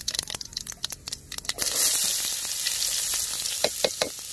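Onions frying in oil with mustard seeds and chana dal: sharp crackling pops at first, then a steady loud sizzle with stirring scrapes, close up.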